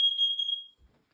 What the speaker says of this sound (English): This is only a test. Testing smoke.